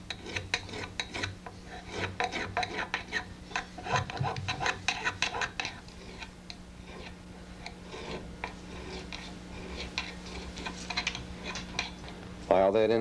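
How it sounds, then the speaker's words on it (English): A hand file rasps over the fret ends of a guitar in quick rhythmic strokes, rolling the edges round, close and fairly quiet, with a steady hum underneath. "roll the file. Come in from each side and roll it to center."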